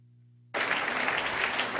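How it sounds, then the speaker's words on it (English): An awards gala crowd breaks into loud, sustained applause after a half-second of near silence with a low hum, clapping steady and close right to the end. "please, just one more round of applause for everyone."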